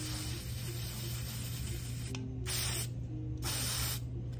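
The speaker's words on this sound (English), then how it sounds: "Now to harden the bow, I prefer Grand Finale hairspray. I spray it onto the bow." Grand Finale hairspray from an aerosol can, sprayed onto a show bow in two short hissing bursts after a quieter lead-in, close and fairly soft with no voices.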